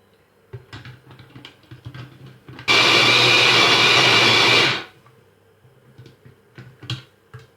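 An electric food chopper chopping oranges roars loudly for about two seconds, bracketed by light clicks and clatter of handling before and after.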